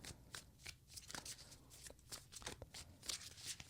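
Tarot cards from a second deck shuffled in quick, crisp riffling bursts, close and fairly soft, with no talk over them.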